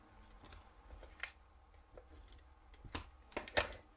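Scissors snip a paper strip for a Christmas card in a quiet room, a short series of soft, close cuts at an uneven rhythm, with the last few louder.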